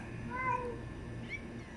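A stray cat stuck up on a house roof meows a couple of times, fairly close, with faint background hum and no talking.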